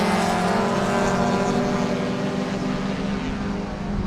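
A pack of Touring 4 race cars racing at Sebring produces a dense, loud engine drone, steady and layered with several revving motors, easing off a little at the very end.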